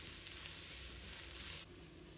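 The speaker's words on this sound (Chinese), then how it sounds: "油热后下入葱蒜，先煸炒出香味" Scallions and garlic stir-frying in hot cooking oil, a steady close sizzle that drops slightly in level near the end.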